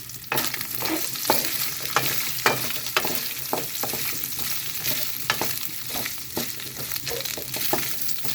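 Meat being stirred in a hot, oiled pan, a spatula scraping and knocking in a fairly regular rhythm over a steady loud sizzle, close and without speech.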